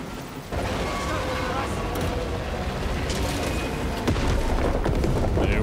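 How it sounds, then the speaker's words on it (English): Charges detonate in Warhammer 40,000: Space Marine, a heavy booming blast that kicks in abruptly and rolls on as a sustained loud rumble with game mechanism noise, while a voice talks over it. "Detonate the charges now."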